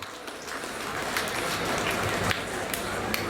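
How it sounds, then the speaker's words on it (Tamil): An audience applauds a children's performance at a Thai Pongal festival in Pendle Hill, dense clapping rising and holding steady, with some voices mixed in. "மீண்டும் அங்கே உங்கள் பலத்த கரகோஷங்கள்"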